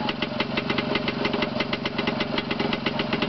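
A Jawa Perak 350 motorcycle engine runs steadily close by, a rapid even thumping pulse with a slight knocking edge, unbroken and with no voices over it.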